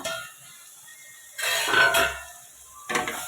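A metal lid lifted off a cooking pot of onions for a drumstick and capsicum curry, heard as two close clanks and a scraping rattle against a quiet kitchen background.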